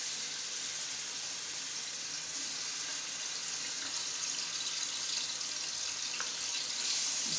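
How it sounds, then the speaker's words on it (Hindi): Garlic-ginger paste fries lightly in oil in a cooking pot for haleem, a soft, continuous hiss and sizzle at a low, steady level with faint occasional clinks, no voices. "तो मैंने लहसुन अदरक का पेस्ट सबसे पहले लिया है, और इसको इसमें पहले हल्का सा फ्राई कर लेंगे।"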